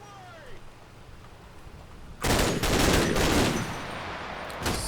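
Infantry gunfire in the video game Combat Mission: Black Sea: after a quiet stretch, a sudden loud, sustained burst of rifle and machine-gun fire erupts and rolls on, tapering slightly, with a further crack near the end.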